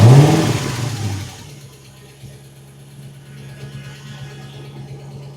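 A Porsche 986 Boxster with a swapped-in V8 on a test run: a loud engine burst at the start fades within a second into a steady, quieter low rumble that carries on to the end.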